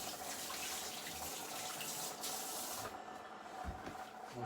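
A kitchen tap runs with a steady, soft hiss of flowing water while hands are washed during cooking, fairly quiet and continuous, with a few small splashes near the end.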